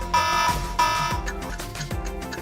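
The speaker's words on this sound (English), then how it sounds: "Smart automate the audible alarm when the light is on for the motion detected." A smart motion sensor light switch sounding its audible alarm, a repeating electronic beeping tone in short pulses with a steady rhythm, near and moderately loud, alone.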